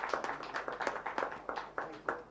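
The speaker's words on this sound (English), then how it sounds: "Please give a huge round of applause." Scattered clapping from a small audience, a loose run of individual claps at a moderate distance, with no talking over it.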